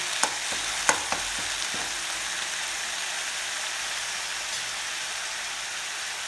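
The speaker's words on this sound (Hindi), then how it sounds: "बढ़िया से लाल होने भून देबो संगवारी मन प्याज में।" Ground onion paste frying in oil, a steady close sizzle throughout with a few sharp spoon taps against the pan at the start.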